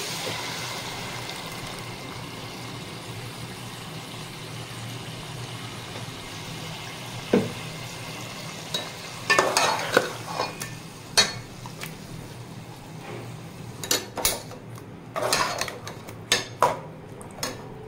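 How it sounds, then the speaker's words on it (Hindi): Chicken frying in a karahi with tomato puree, a steady low sizzle under a scattering of spoon scrapes and metallic clinks that grow more frequent toward the end. "और अब मैं इसमें ऐड करूँगी प्यूरी।"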